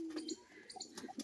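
A male crested pigeon calls in a short burst of low, rolling coos, faint and close, with no voices.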